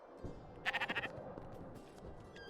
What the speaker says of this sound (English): I already fed you, stupid sheep.